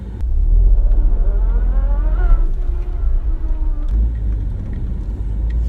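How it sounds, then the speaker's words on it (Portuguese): A 2015 Ford Ka idles with a low, steady rumble, and a rising whine and grinding rattle from the transmission come in as reverse gear is engaged, heard close and with no talking. "desse problema de barulho quando o veículo engata a marcha ré"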